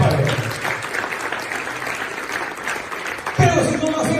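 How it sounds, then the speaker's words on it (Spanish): A church congregation claps and applauds at a sermon, with steady dense clapping throughout and a preacher's voice talking over it, rising louder near the end. "Denle palmas a Él."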